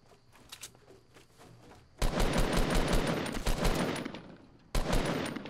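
Revolver or hand cannon gunfire in a Fortnite Battle Royale match, quiet distant shots at first, then a loud close burst of rapid repeated firing that pauses briefly and resumes.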